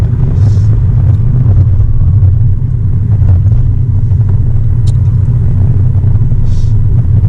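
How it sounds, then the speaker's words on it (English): Road traffic heard as a steady low rumble of passing cars, continuous and fairly loud, with a little wind noise and no talking. "there's a lot of traffic"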